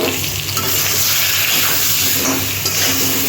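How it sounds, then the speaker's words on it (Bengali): Eggplant pieces with turmeric fry lightly in hot oil, giving a steady close sizzle with occasional stirring scrapes, no voices. "দিয়ে হালকা করে ভেজে দিচ্ছি আমি।"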